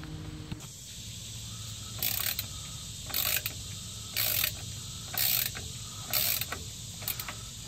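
A wrench works loose the transmission bolts on a 1996-2001 Dodge Ram 1500 5.9L, with the 46RE transmission being replaced. About six short bursts of metallic ratcheting come at a steady pace over a quiet background hum, and no one speaks.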